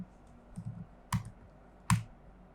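A few sparse, isolated keystrokes on a computer keyboard as a search is typed into the R programming environment's help, close and clear with no talking.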